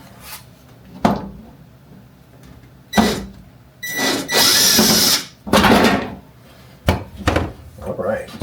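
A handheld power drill works screws out of a kitchen vent hood in several short, loud whirring bursts, with clicks and handling knocks between them.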